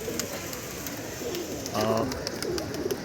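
Pigeons coo softly nearby, a low repeated warble standing out briefly amid faint background noise.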